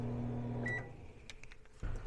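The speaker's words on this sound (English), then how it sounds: "let's turn the microwave off." A microwave oven is switched off: its steady humming drone stops abruptly, a short beep sounds, then a few soft clicks and clunks follow in a quiet room, with no voices.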